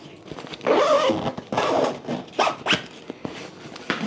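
The zippers on a Mosko Moto Mule adventure roller luggage bag being opened, several rasping pulls of uneven length with short pauses between them, close up, with no talking.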